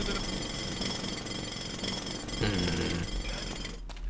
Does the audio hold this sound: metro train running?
no